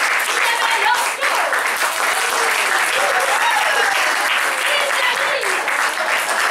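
Steady, loud applause from the audience at a teen improvisation cabaret, a thick continuous wash of clapping hands with faint voices mixed in.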